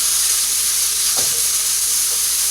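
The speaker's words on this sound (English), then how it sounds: "I'm gonna break up the beef a little bit, but I'm not gonna season it yet." Ground beef browning in a hot pan for a beef empanada filling, giving a loud, continuous close sizzle with a brief stirring scrape partway through.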